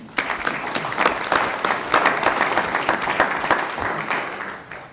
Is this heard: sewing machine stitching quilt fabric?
no